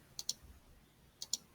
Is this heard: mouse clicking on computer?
yes